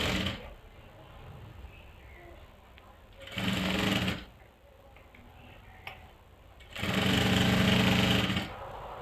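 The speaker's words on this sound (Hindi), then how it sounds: "तो ये मैंने सिलाई लगा दी है" Sewing machine stitching around a garment neckline, running in two loud bursts of steady rapid motor whirr separated by quieter pauses.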